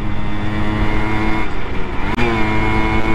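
Simson moped engine running steadily while riding, a sustained buzzing two-stroke drone with a brief shift or dip in pitch about two thirds through, close and loud throughout.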